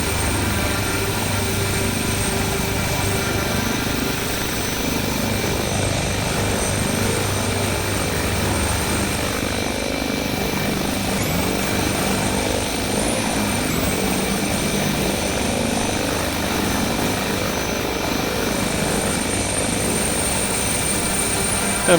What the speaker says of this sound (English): the sounds in this helicopter are pretty, should I just say, awful